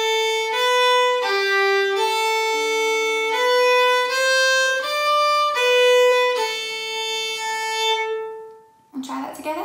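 A fiddle plays two phrases of the Manx tune Myr Shenn Ayr, a clear solo melody of steady bowed notes, ending with a brief voice.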